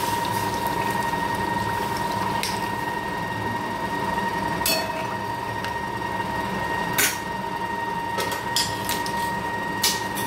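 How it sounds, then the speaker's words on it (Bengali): Chicken simmers in water in a pot on the stove with a steady, fairly loud bubbling wash, a constant hum underneath and a few sharp ticks and pops. "চিকেনটার মধ্যে একটু জল দিয়ে চিকেনটা সেদ্ধ করে নেব।"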